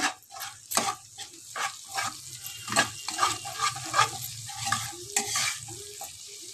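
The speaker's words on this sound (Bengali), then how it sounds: "পেঁয়াজগুলো ভাজা ভাজা হোক দেখো পেঁয়াজটাকে এইভাবে ভেজেছি" Onions fry quietly in a pan, a soft sizzle broken by repeated scraping stirs at an uneven rhythm.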